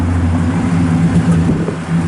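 A 1963 Pontiac Catalina with a 421 Tri-Power V8 idles nearby, a steady, loud, low rumble that holds an even tone throughout without revving.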